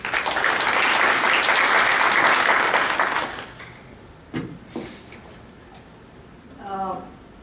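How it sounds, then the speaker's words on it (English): An audience claps loudly and steadily for a speaker being introduced at a podium, the applause fading after about three seconds into a quieter room with a few voices and small knocks. "Let's give her a big round of applause."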